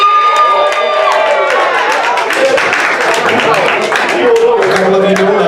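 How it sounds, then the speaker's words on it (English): A comedy club audience claps and cheers in a loud, continuous burst, with the comedian's voice and scattered calls audible over the crowd. "Round of applause if you are not a parent."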